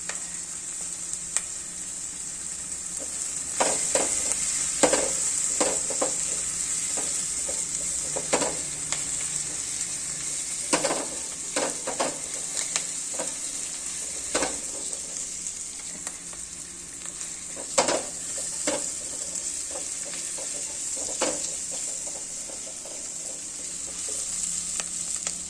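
Masala for a Kerala-style jackfruit curry sizzles steadily in a pan over a low flame, with a continuous frying hiss broken by repeated scraping stir strokes, close and moderately loud, with no voices.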